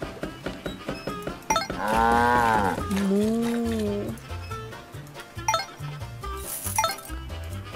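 Cows moo in the farming video game Meine kleine Farm 4. One long, drawn-out moo is followed by a second, lower moo, set against looping game music and light clinking effects.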